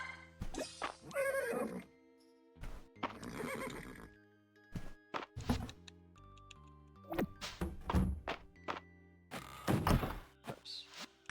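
Horses in the stables of the Fields of Mistria farming video game whinny repeatedly, each call separated by game thunks and hoof clip-clops, all crisp and close with short pauses between.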